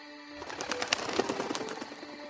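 A flock of birds calls and flutters together as a sound effect in a French audiobook, a dense, steady chatter of cooing and chirping with no voices.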